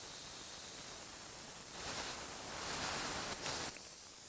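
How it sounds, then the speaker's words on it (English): Compressed air hisses steadily from a tire being inflated, a faint continuous rush that swells slightly louder midway through, with no talking. "You can hear the hissing."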